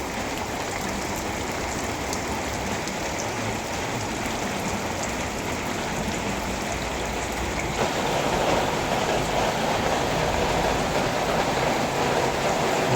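Steady heavy rain pours outside a house during flooding, a dense, even hiss of drops on surfaces that swells slightly louder partway through, with no voices.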